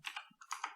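A few quick computer keyboard presses, including an arrow key, typed in a word processor, crisp close clicks in a short burst with no talk.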